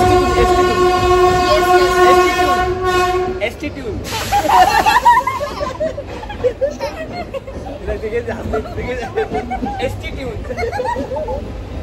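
A loud, sustained horn blares for a few seconds from a Mumbai local train at Dadar, then the rumble and rhythmic clatter of the passing train, with crowd chatter underneath.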